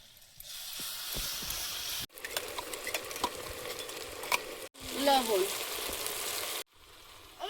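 Ground paste of ginger, cumin, dried red chilli and garlic hits a hot pan and sizzles loudly, with stirring and bursts of frying crackle broken by a few abrupt cuts.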